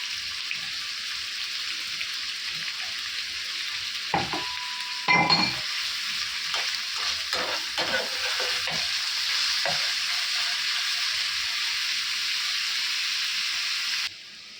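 Chopped chillies and garlic fry in hot oil in a pan for a bitter gourd bhaji, giving a steady sizzle broken by a few stirring clinks and scrapes partway through before the sound cuts off.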